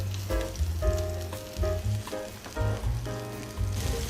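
Onions hit hot oil in a grill pot and sizzle loudly and continuously, with crackling bursts as they are stirred and settle.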